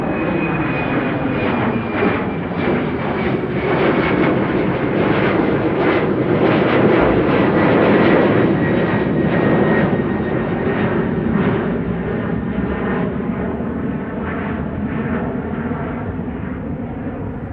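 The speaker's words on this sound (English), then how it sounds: "And here's the SAS Embraer 195, not E2 but regular Embraer 195." An SAS Embraer 195 (regular, not E2) jet takes off at Amsterdam Schiphol Airport, a loud, steady broadband engine roar with a whining tone, sustained throughout and peaking midway.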